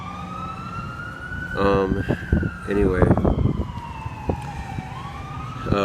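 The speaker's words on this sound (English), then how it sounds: "It's the sirens kind of on cue as I press record." A wailing emergency vehicle siren in Hawaii sweeps up and down continuously, fairly close, with someone speaking over it for a few seconds.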